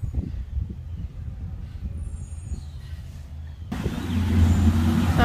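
A large garbage truck rolls past nearby, its low engine rumble building and growing louder toward the end with a heavy diesel drone and hiss.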